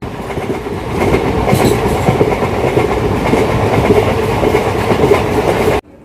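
Steady clickety-clack and rumble from the Guwahati–New Bongaigaon passenger special train on Indian Railways, heard from inside a carriage, loud and continuous with rhythmic wheel beats, cutting off abruptly at the end.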